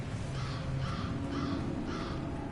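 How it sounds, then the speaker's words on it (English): Crows caw in the fantasy world of Dragon Age Inquisition, four evenly spaced harsh calls at moderate distance over a steady low ambient bed, with no talking. "Liliana's crows are here, so there's got to be some scouts."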